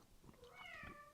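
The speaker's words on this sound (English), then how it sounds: "Every time I start this, he starts meowing like crazy" A cat gives a single short, faint meow indoors in a quiet cottage room, with a soft bump right at the end.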